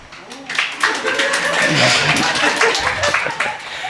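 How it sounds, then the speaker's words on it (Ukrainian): Audience at a live conversation event in Lviv clapping together, dense steady applause throughout, mixed with murmured voices and some laughter. "Хто не плескав?"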